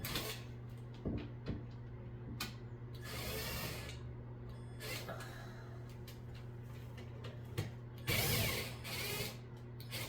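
Bolts are loosened on a modern low-profile LED ceiling fan, a quiet run of ratcheting clicks and small metallic turning sounds close by, repeated in short bursts.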